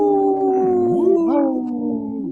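A wolf howls in long, sustained, wavering tones lasting a couple of seconds, with pitch slides and dips, loud and close, and no talk over it.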